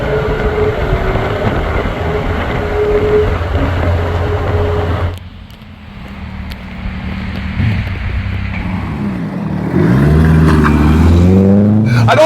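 A Peugeot 205 CTi cabriolet drives with its top down, engine droning steadily before easing off, then building revs again near the end amid wind and road noise.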